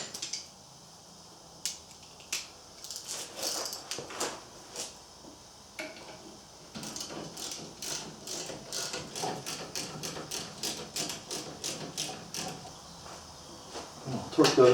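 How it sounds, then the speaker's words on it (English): A ratchet tightens caliper bracket bolts on a Ford Edge's rear brakes, close rapid clicking in short bursts, sparse at first and then a long run of steady strokes, ending with a couple of louder knocks. "Tighten those caliper bracket bolts back up."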